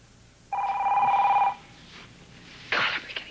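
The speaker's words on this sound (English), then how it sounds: "God, I'm beginning to hate the phone." A telephone rings once in a domestic drama scene, a steady electronic trill lasting about a second, fairly loud and close, followed by quieter room sounds and a brief burst of noise.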